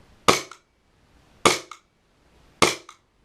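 A Glock 23 Gen 4 gas blowback airsoft pistol fires three sharp, evenly spaced shots about a second apart. Each crack is followed by a quick mechanical slide clack, loud and close with silence between.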